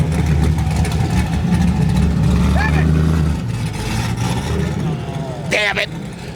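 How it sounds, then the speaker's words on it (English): A Pontiac Firebird engine idles with a deep, loud rumble at a StreetCar Takeover car meet, the low drone dropping off partway through while people talk nearby and crowd noise carries on. "I mean, listen to that. Look at that Firebird."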